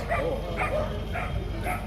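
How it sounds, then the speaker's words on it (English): Dog barking repeatedly outdoors at a building site, four evenly spaced barks at moderate distance over steady background noise, with no clear talk over them. "What's a dog over here, man?"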